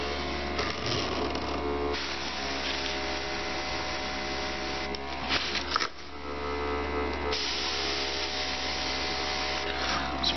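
Cheap Chinese airbrush kit spraying Vallejo Model Air paint straight from the bottle, giving a steady close hiss of air with a constant compressor-like hum beneath, briefly interrupted around the middle.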